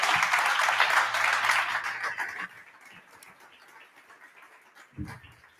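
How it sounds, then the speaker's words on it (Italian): Conference audience giving a round of applause, a dense burst of clapping that holds for about two seconds then quickly fades, leaving quiet room noise and a soft thump near the end. "Io ringrazierei con un applauso Raffaella Caprioglio e Paolo Tosi"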